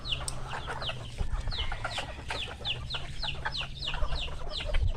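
Chickens and young chicks at a farm house yard, with repeated short clucks and high chirps scattered over a steady low background hum, fairly quiet and moderately close.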